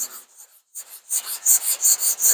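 Hand sanding 2K primer on a car panel, a close, rhythmic rasp of abrasive strokes that starts soft and grows louder and more regular, with about six firm back-and-forth passes at the end.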